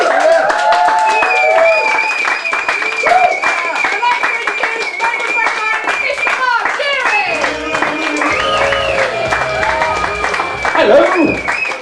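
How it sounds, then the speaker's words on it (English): A comedy club audience claps and whoops ahead of a stand-up comedian's set, with steady dense applause, cheers and shouted voices running loud throughout. "more clapping and whooping, Jeary."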